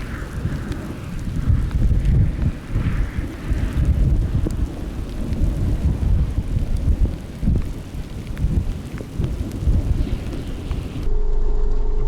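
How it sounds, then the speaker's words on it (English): Heavy rain pounds a surface during a Great Plains supercell storm, with deep rumbling thunder rolling underneath and gusts of wind throughout. "Wish this rain would stop."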